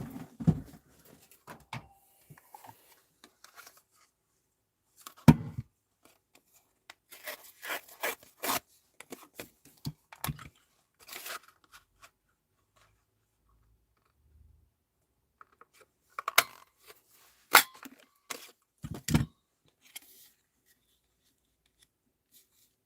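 Scissors snip through a paper fairy cut from a jelly-printed scrap, giving bursts of close, soft cutting and rubbing with quiet gaps between them.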